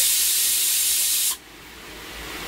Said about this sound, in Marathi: कुकरच्या शिट्ट्या झालेल्या आहेत.